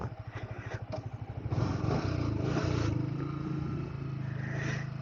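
A Yamaha R15M motorcycle with its stock muffler is ridden, the engine pulsing rapidly at first, then rising into a louder, steadier drone that holds close and continuous with no talk.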